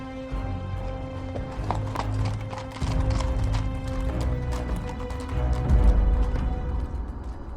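Hooves clip-clop steadily at a quick pace close by, a horse moving over ground with a low rumble and occasional snorts beneath.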